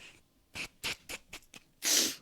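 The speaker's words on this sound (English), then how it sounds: "I need to sneeze." A single sneeze rings out alone after a few short sniffs and breaths, with a sharp, fairly loud burst at the end.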